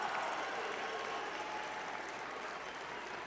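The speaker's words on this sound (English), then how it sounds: "I ask your friends and family to join me in applauding the amazing 50th anniversary graduating class of June" A convocation crowd applauds the graduating class, giving an even, continuous patter of many hands that holds steady and fades slightly toward the end.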